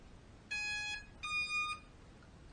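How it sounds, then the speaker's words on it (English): A Holy Stone HS720E drone gives its power-on signal as two clear electronic beeps, each about half a second long, close and loud over a quiet background. "It'll do a beep."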